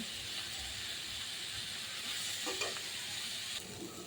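Ridge gourd with prawns cooking down in a pan as the liquid evaporates: a soft, steady hiss and sizzle fills the background, with a few faint scrapes of stirring near the end, quiet and free of talking.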